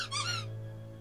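A little Labrador puppy gives a short high squeak at the start, then a faint steady hum carries on through the rest of the second.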